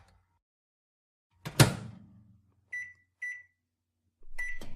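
A microwave oven door thuds shut loudly, followed by a sequence of short electronic beeps from its control panel, with silence in between.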